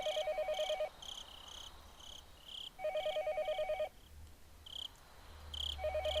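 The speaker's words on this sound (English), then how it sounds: "But since the phone rang, I had to pick it up." A telephone in the Higurashi video game rings in repeated bursts with pauses between them, clear and steady over a background of cricket-like insect chirping.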